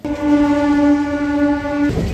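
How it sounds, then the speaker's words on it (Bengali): A train sounds a long, steady horn close by for nearly two seconds while entering Balgona station, followed by the rumble of the moving train. "ট্রেন ঢুকছে বলগোনা স্টেশনে"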